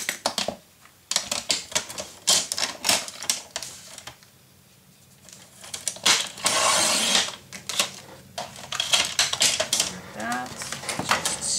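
Bladed paper trimmer cutting paper for a mini album, heard as a series of close clicks, scrapes and sliding rasps, some of them loud, with brief quiet gaps between.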